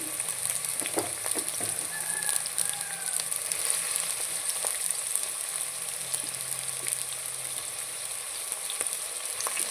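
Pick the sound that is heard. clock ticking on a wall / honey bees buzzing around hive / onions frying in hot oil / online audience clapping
onions frying in hot oil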